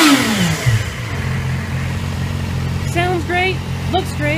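A 2007 Yamaha R6 sport motorcycle engine revs up close, dropping back and settling into a steady loud idle hum, with brief chirpy sounds toward the end.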